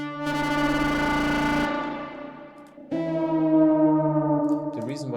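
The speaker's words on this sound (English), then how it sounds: "So a cutoff modulation, and I just adjusted the speed." Synth lead with LFO-modulated filter cutoff, giving a sweeping, spaceship-like sound as the brightness rises and falls across sustained notes, with a sudden new note partway through; loud, no talking.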